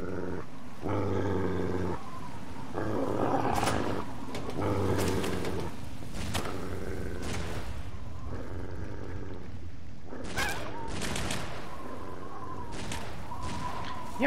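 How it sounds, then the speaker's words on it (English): A dog in Fallout 3 growls and snarls in repeated bursts amid game sound effects, moderately loud with short gaps between outbursts. "What's that dog?"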